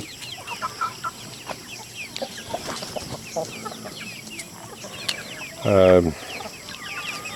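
Hens, including old hens, cluck and murmur softly throughout, with one louder, nearer squawking call near the end over quiet outdoor background.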